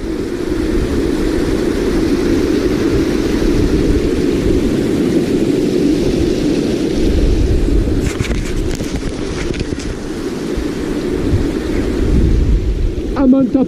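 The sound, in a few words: waterfall at Vatnajökull, Iceland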